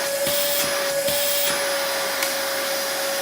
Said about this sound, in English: let's plug this in. We'll test the suction quick.